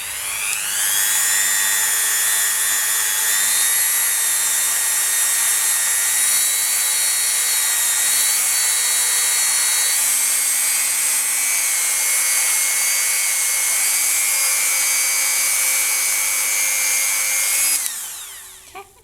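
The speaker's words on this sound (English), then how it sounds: "I'm going to bring a buffing tool or a Dremel. This is the one that I'm using, and I'm just going to give these a buff," Dremel rotary tool buffing polymer clay mokume gane pieces, a loud high-pitched steady whine held for about eighteen seconds with slight pitch shifts under load, then spinning down.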